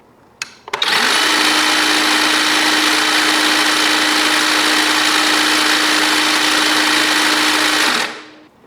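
An EGO 2410 cordless hedge trimmer starts with a couple of clicks and then runs at a steady, loud electric whir with a constant tone for about seven seconds before winding down.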